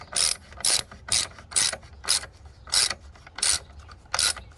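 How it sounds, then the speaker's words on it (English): A socket wrench ratchets a 10mm screw down on a battery bracket of a 2008 Ford Escape V6 XLT, giving eight rapid, crisp clicking bursts in an even rhythm, close and clear with no talk. "Get your 10mm screw and socket and tighten it up"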